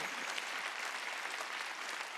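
A church congregation claps together during a Korean worship service, a soft, steady wash of hands that stays faint and continuous.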